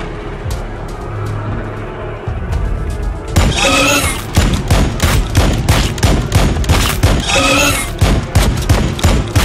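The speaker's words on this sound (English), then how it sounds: "Plasma fire support ready." Plasma weapons fire in the Warhammer 40,000: Battlesector game, a loud rapid volley of crackling energy shots that bursts in after a calmer opening and keeps up in dense repeating blasts.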